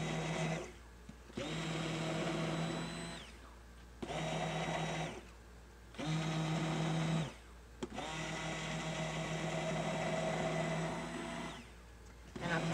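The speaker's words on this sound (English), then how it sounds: "I reached for my stick blender because it is major separation" A stick blender whirs loudly in several bursts of a few seconds each, separated by brief pauses, as it mixes hot-process soap batter of cocoa butter and olive oil in a crock pot.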